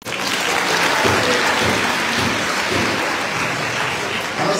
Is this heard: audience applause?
yes